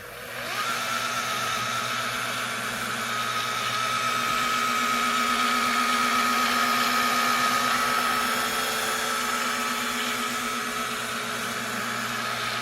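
A 17-inch, 175 rpm floor machine with a teal pad runs over porcelain tile, giving a loud, continuous motor drone with a steady hum that starts almost at once and holds unbroken throughout.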